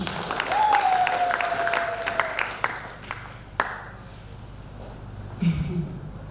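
Audience at a seminar for widows clapping, a crowd's scattered applause rising and tapering over several seconds, with a few louder claps and faint background voices and noise.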